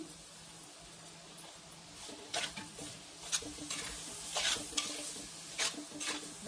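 A spoon scrapes and stirs jaggery and grated coconut cooking together in a pan, soft sizzling under irregular close scraping strokes, with no one speaking.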